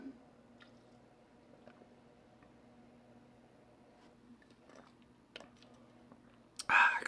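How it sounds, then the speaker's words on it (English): A person takes a small sip of water: faint slurping and swallowing clicks over a low steady hum, then a louder breathy exhale at the very end. No one speaks. "I'm gonna take a little sip of water."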